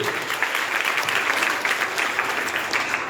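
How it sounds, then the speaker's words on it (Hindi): Audience applause at a church Vacation Bible School session, a steady, dense clapping from a crowd filling the room, sustained and even for the whole stretch without talk over it. "जोरदार तालियां यीशु के लिए"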